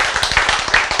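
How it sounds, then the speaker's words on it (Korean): An audience claps in a lecture hall, a quick run of dense, close, overlapping claps that keeps up at an even level for the whole brief moment. "여러분이 이렇게 박수 치는 순간에도"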